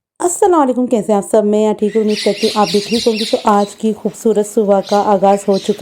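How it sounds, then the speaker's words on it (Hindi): Birds chirp in the morning with bright, high tweets under a woman's close, continuous talk. "और चिड़ियों की आवाज़ आ रही थी, आप भी सुन सकते हैं।"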